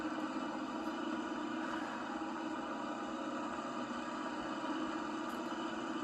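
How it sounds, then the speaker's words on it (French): A small tractor pulling a four-furrow plough, its engine droning steadily at a constant, fairly distant level with no clear rise in revs. "Allez, accélère, petit tracteur. Ah, il galère quand même un peu, hein."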